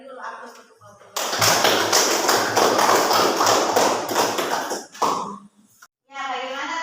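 A classroom audience applauds a student group, a dense burst of clapping lasting about four seconds, with a teacher's voice before and after it.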